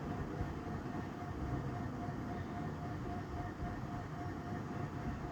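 Train running nearby, a steady broadband rumble with a faint tonal whine, continuous and even throughout without voices.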